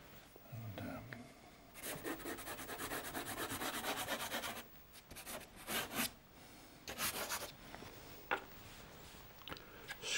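Pastel is scraped on paper during a painting demonstration, making bursts of dry, rasping rubbing strokes in quick rhythm, close and fairly loud, separated by pauses with occasional speech.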